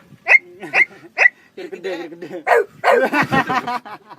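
A person imitates a small puppy barking, giving three short, sharp, high yips in quick succession, close and clear, then goes on with longer whining, voiced sounds and talk.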